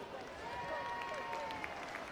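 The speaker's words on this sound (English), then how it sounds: "Give them a round of applause." Faint applause and crowd noise at a school swimming carnival in an indoor pool venue, soft clapping running under a reverberant hubbub with tonal echoes throughout.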